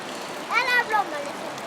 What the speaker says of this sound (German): Wow, eine tolle Dusche hast du da